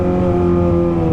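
A Kawasaki ZX25R motorcycle with a BJS exhaust revs in a loud, steady, close burst. The high-pitched engine drone holds for about a second.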